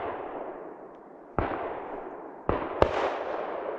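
Shotgun blasts while deer hunting in Iowa: two sharp, loud reports about a second apart, each trailing off into a long rumbling echo over outdoor ambience, with a faint click just after the second shot.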